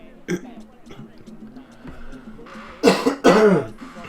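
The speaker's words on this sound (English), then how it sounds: "Cough is annoying me." Two loud, raspy coughs close to the microphone near the end, following a quieter stretch with a brief throaty sound and some faint voice, during Broken Sword 2: The Smoking Mirror gameplay.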